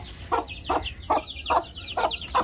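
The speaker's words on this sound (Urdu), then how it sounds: "میں اس وقت اپنی مرغی اور چوہوں کو نکالنے لگا ہوں۔" Chickens being let out of their coop in the morning cluck in a steady rhythm of about six evenly spaced calls, close and fairly loud, with no speech.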